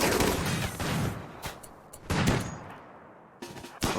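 Gunfire from colonist shooters defending a kill box in RimWorld, sustained rattling volleys with dense overlapping shots, pausing briefly and then resuming in sharp bursts.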